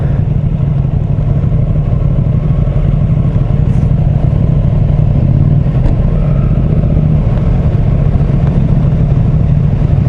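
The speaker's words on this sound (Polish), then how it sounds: "Milion motocykli tu jedzie" Motorcycles passing on a road during an end-of-season group ride, a steady loud engine drone filling the whole stretch with overlapping mid-pitched engine noise and no clear gaps.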